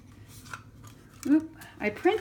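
Scissors cut out a paper tab printed on matte sticker paper for an altered Bible craft, giving a few close, crisp snips that build toward the end, with no talk.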